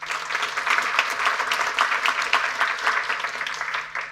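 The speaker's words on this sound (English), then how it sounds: "give me a kind round of applause for our panelists this morning" An audience at a cybersecurity summit claps for the panelists, a dense, steady round of applause throughout, unbroken by speech.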